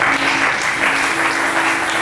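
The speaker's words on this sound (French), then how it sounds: "Ces acclamations sont faibles." Church congregation applauding and acclaiming during a Wednesday worship service, a dense, continuous roar of clapping and voices that holds steady and loud for two seconds without pause.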